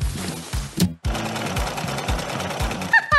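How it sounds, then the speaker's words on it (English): A sewing machine stitches in fast, steady bursts of mechanical chatter, briefly pausing before resuming its rhythmic run, close and fairly loud. "Time to sew!"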